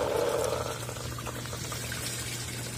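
Tap water pours steadily into the spin tub of a twin tub washing machine, making a continuous splashing rush over a low hum.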